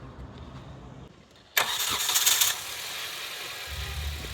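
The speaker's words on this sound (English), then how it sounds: "So let's start it up and see what happens." A Hyundai car engine cranks and catches with a loud burst, then settles into a steady idle rumble after repair, close by with no talking.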